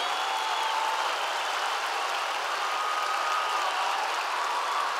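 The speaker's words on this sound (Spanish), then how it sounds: "Y el aplauso que siempre quiso escuchar. Que suene muy fuerte para Luis Slimming." A large festival crowd applauds a comedian in a dense, even wash of clapping that holds steady throughout, with no voices standing out.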